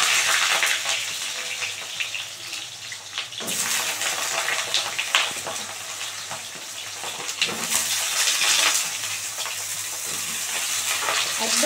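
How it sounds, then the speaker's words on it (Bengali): Halved young pointed gourd (potol) dropped into hot oil, a loud steady frying sizzle with bubbling and stirring throughout, no voices. "তেল গরম হয়ে গেছে, এবার পটলগুলো ছেড়ে দেবো।"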